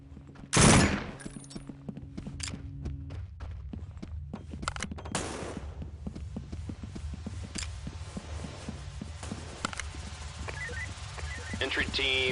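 Gunfire in the SWAT 4 video game: one loud blast opens, followed by bursts of rapid automatic shots and scattered single cracks, with footsteps and voices over a steady background hum.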